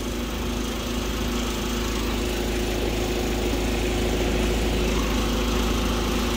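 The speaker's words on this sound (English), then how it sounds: "And now I'm ready to push this forward in order to use my mast extension." Marini MRP 350 remote control piling rig running steadily as its mast extends, a constant near engine drone with a faint tonal hum and no break throughout.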